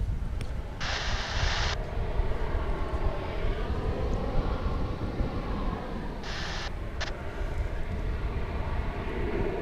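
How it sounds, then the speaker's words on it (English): An Embraer 175 regional airliner arrives at DFW airport, a continuous low jet engine rumble with a broad roar, heard from a distance outdoors, joined by a couple of brief higher hissing bursts. "American Eagle Flight 3847 coming in from Tallahassee in Florida in Embraer 175"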